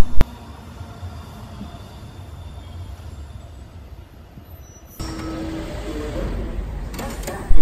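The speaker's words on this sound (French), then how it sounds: "Métro." A metro train runs with a steady low rumble and rolling noise, changing to a louder, brighter rush partway through as the car moves on, with no talk.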